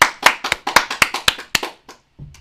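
Sparse clapping from just a couple of people at a Frisian reading marathon event, about a dozen sharp, distinct claps in a quick uneven rhythm that slow and fade out, close and dry.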